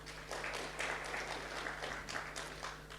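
An audience at a SACCO launch event claps for several seconds, a moderate patter of many hands in a room with a steady low electrical hum beneath, rising and easing slightly without talk.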